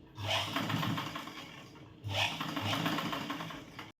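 Sewing machine stitching a tucked blouse sleeve in two sustained whirring runs of close, steady mechanical rattle separated by a short pause, no talking.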